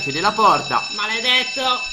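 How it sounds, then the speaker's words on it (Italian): An alarm tone in the video game Five Nights at Freddy's Survival Stickman holds steadily beneath a man's animated Italian speech. "Un po' di allarme."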